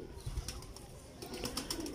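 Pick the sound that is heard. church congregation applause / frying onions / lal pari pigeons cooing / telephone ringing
lal pari pigeons cooing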